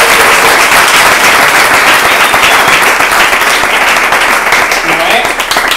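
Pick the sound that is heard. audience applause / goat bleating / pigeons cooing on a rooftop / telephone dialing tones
audience applause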